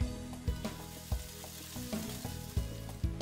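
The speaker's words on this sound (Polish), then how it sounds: "Czosnek kroję drobno, drobną pusteczkę i dorzucam do reszty warzyw na patelnię." Finely chopped garlic going into vegetables frying in a pan, a quiet sizzle punctuated by regular knocks and scrapes of a spatula roughly every half second, close and without talk.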